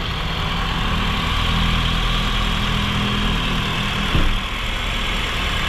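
A Honda Jazz engine, formerly seized, idles steadily and loudly at close range after starting, a continuous low rumble with one brief thump near the end.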